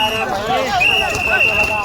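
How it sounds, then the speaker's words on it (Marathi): Bulls pound along in a bullock cart race at Gandharpale, their hoofbeats faint beneath loud, continuous commentary from an announcer. "महेशच्या बैलांचं नाव आहे नंदी आणि चंदिया पळतोय बघा।"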